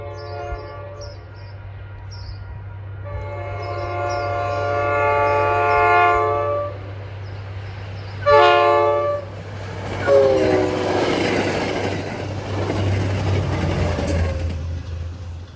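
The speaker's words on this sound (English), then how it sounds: "Next up is a typical commuter train, inbound to Boston, with one of the new" An inbound commuter train to Boston, pushed by an F40PH-3C locomotive, sounds its horn in several sustained blasts, then rumbles past nearby with rising rail noise and wheel clatter that gradually eases.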